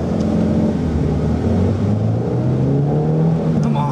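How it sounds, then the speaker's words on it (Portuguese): A Fiat Bravo 1.8 16v engine revs hard and accelerates away from a traffic light uphill, its pitch climbing steadily, loud and close from inside the car. "Fazer uma arrancar um pouquinho mais forte aqui no semáforo"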